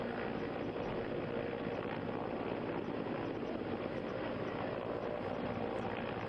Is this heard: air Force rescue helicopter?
yes